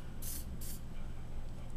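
Hairspray sprayed onto a freshly formed curl: two short, bright hissing bursts in quick succession, close to the microphone, with quiet room tone in between.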